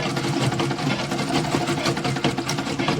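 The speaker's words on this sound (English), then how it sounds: "I'll sew it this way." A sewing machine stitches fabric for a Mexican-style turban, running steadily and loudly up close with a continuous rapid mechanical whir and no pauses or talk.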